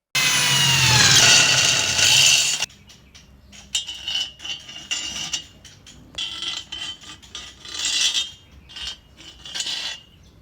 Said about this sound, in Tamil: நம்ம அந்த இடத்துல ஓட்டை போட்டு நம்ம நட்டு போல்ட்டை போட்டு ஏற்றிக்குவோம்